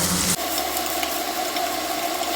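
Onions tossed in with green chillies hiss in a hot pan for an egg curry: a loud, dense, continuous sizzle that shifts sharply as the onions hit the oil, then holds steady with no voices.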